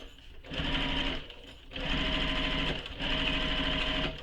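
A sewing machine stitches fabric for a sewn pattern project in three close, loud whirring bursts, with short slow-downs between runs and no voices over it.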